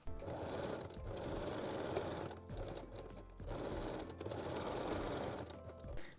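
A sewing machine runs a small zigzag stitch along the lace edge of a bralette, humming steadily in two long bursts with a short pause between them and a brief stop near the end.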